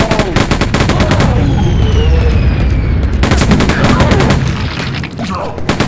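Loud, dense video-game gunfire from Quake 2, rapid repeated shots blasting at enemies almost without pause, with brief gaps and overlapping explosive bursts.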